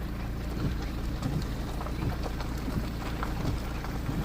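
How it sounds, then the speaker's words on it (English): Heavy rain pours steadily, a dense close hiss with a low rumble beneath it and no voices. "it's peeing down rain, so I can't see it yet"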